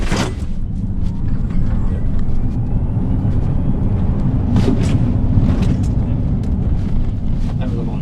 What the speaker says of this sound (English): So if I go on full brake, I'll go full throttle, then I'll just release the brake.